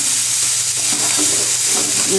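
Cauliflower filling for parathas fries fairly dry with roasted spices. A loud, unbroken sizzle is heard close up, with faint stirring touches underneath.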